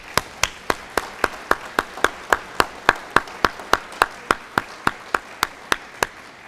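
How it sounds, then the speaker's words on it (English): An audience after a county commission candidate debate claps in steady unison, about three sharp, evenly spaced claps per second sustained throughout at moderate volume. "I think a round of applause would be amazing"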